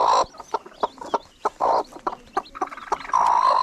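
A broody hen clucks in short, loud bursts beside her newly hatched chicks, whose thin high peeps run through the gaps, close up with no talking.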